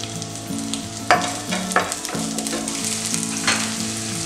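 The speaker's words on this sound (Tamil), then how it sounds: "எண்ணெய் சூடாயினதும் ஒரு பெரிய வெங்காயத்தை அப்படியே நீட்டு நீட்டாக கட் பண்ணியிருக்கேன்" A large onion sliced into long strips fries in hot oil for chicken noodles, crackling loudly with spatula clatters and scrapes while faint melodic tones play underneath.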